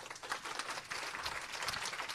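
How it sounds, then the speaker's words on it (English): Audience applause at a startup pitch event, a short burst of steady clapping from a crowd, moderately loud and continuous with no talk over it. "Big round of applause."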